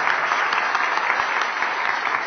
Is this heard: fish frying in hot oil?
no